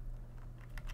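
Keystrokes on a computer keyboard, a few soft separate taps toward the end of a second, faint over a steady low hum.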